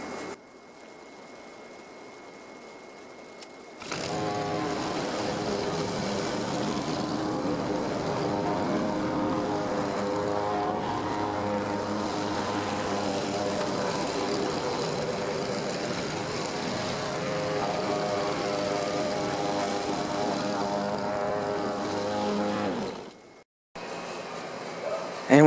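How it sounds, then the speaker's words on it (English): A walk-behind lawn mower cuts grass after blade maintenance, its engine droning steadily and close for about twenty seconds with strong harmonic tones, then cutting off abruptly near the end after a quieter idle at the start. "So let's just finish cutting this grass."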